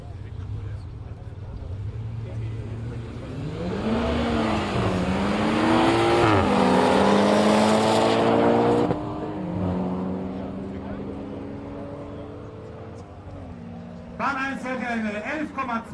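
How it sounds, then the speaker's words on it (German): Two cars, a BMW M340i and a Mitsubishi Evo 8 MR, accelerate down a quarter-mile drag strip in Brilon, engines rising in pitch and swelling loud before fading, with a voice speaking over the end. "BMW M340i gegen Evo 8 MR."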